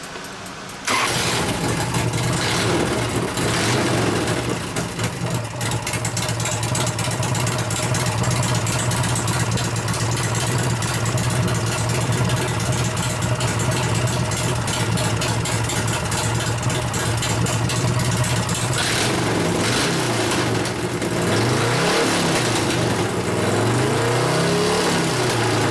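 A 2001 Gilroy Indian race bike engine runs loud and steady at close range with a deep throbbing idle, then revs rise and fall in a few sharp blips near the end.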